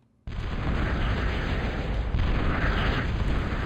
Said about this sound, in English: Again, another bombing run. I managed to bomb a con out of the sky there